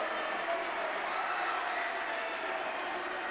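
A crowd at a high school boys varsity basketball game applauds and cheers after a lay-in, a steady wash of clapping and voices that holds at even loudness throughout.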